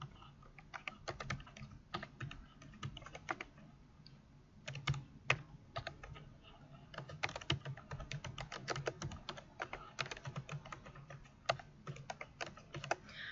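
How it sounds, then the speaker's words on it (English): Keys clatter in quick, uneven bursts as someone types on a computer keyboard, soft and close with brief pauses between runs. "you'll want to add them by typing in the data and hitting"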